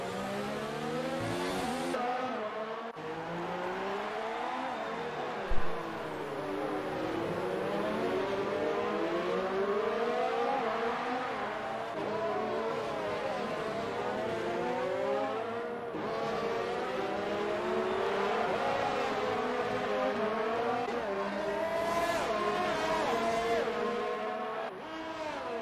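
Formula race cars roar and rev through a lap in an Xbox racing game, engine whines continuously rising and falling as several cars jostle and overtake, loud and steady throughout with a commentator's voice faintly underneath.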